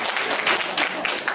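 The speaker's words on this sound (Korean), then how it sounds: "박수 한번 쳐주세요." Audience at a church youth group gives a short burst of applause, a dense steady patter of many hands clapping close by with some voices mixed in.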